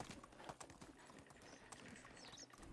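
Donkey hooves clip-clopping in the medieval life-sim game Medieval Dynasty, a steady run of close, light hoof knocks over soft ambient background with no talking.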